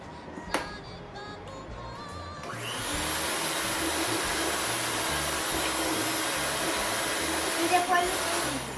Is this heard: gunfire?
no